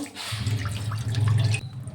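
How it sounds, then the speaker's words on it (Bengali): Water splashes steadily into a wok set up to boil chow mein noodles, a close, continuous pouring sound lasting about a second and a half before stopping. "তার জন্য কড়াই বসিয়ে পানি দিয়ে দেবো।"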